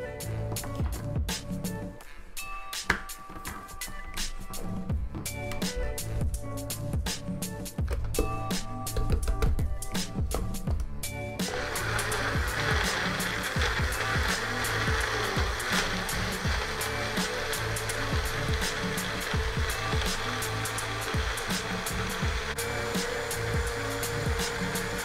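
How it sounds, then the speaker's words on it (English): Close, loud whirring roar of a blender pureeing mangoes, strawberries and peaches, choppy and irregular at first, then settling into a smooth, steady high-speed drone. "our first step is to blend all of our fruit to puree it"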